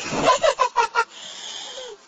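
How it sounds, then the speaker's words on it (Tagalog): A quick series of five nasal honks from geese, loud and close, followed by a softer breathy trailing honk. "Magkausap yung dalawang ibon."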